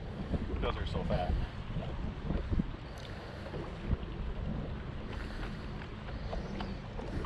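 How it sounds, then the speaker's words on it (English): Wind gusting over a Wisconsin lake during a muskie fishing trip from a boat, a steady broad rushing with microphone buffeting and faint water lapping, with no speech. "The wind blows like that today."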